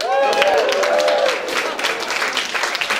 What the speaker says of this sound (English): When I say I've been married for 19 years, people applaud.